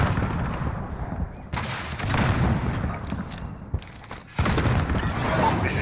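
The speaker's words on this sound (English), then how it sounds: "Missile, go for launch." Missile launches and strike explosions in Call of Duty Modern Warfare, a dense barrage of loud booms and rumbling blasts rolling through the whole stretch, with a brief lull and then a fresh heavy impact near the end.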